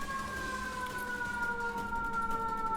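A distant siren wails steadily in the background, faint and continuous, with no voices over it.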